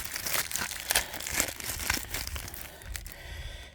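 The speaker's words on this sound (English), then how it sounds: "I should unwrap this first." Plastic packaging around a replacement sealed-beam taillight crinkles and tears up close in a quick series of irregular rustles and crunches.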